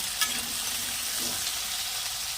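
Diced potatoes sizzle and fry in a hot pan, a steady close crackling hiss with a faint stir or clink near the start.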